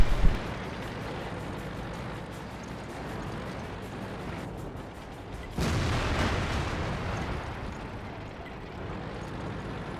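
A T110E3 tank cannon fires in World of Tanks on the Lakeville map. A sharp blast opens the clip over a constant engine rumble, and a second heavy boom hits midway, after which the roar stays louder.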